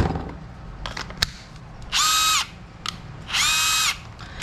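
Two bursts of a Panasonic 10.8V cordless impact driver, each about half a second long, whirring at high pitch and running alone with brief clicks and handling noise between them.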